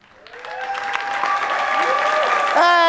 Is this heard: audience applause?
yes